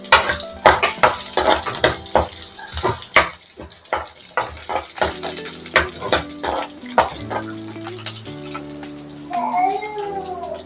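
Peanuts and chopped onion frying in oil while a spoon stirs them, with clattering scrapes and taps against the pan over a steady background sizzle, close and moderately loud.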